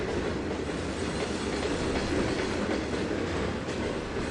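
A passenger train in the Trainz 2022 railway simulator rolls past with a steady, dense rumble and faint clickety-clack from the wheels, holding an even loudness throughout with no talking.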